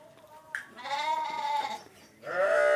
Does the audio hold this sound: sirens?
no